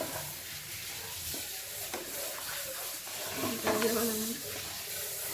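Macaroni frying in a pan with a steady sizzle while being stirred, a utensil scraping and clicking against the metal in uneven strokes; close and fairly loud, no talk over it.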